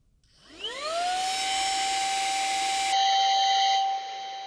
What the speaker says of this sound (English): Now I'm going to turn on the electronic duster.